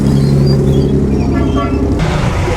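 An E-type Jaguar engine drones loud and steady on a hill climb during the Mille Miglia, a continuous close rumble under crowd noise that shifts in tone near the end.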